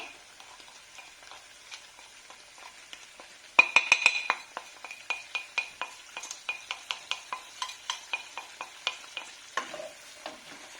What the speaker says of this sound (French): Et on fait revenir pendant quelques minutes.